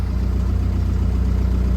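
A cold 1976 Land Rover Series 3 88-inch diesel engine idles steadily, a low, even rumble with a regular throbbing pulse and no talk over it.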